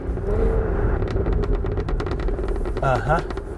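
A Cadillac Escalade V SUV in second gear gives a deep, rumbling exhaust burble with crackles after the throttle is lifted, loud and close from inside the cabin, with someone speaking over it.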